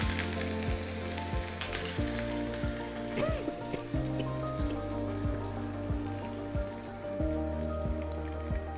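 Curry leaves crackle and sizzle in hot oil for a tempering with cumin, red chillies and asafoetida, a steady dense frying hiss with a low hum and occasional pops, fairly close and continuous with no talk.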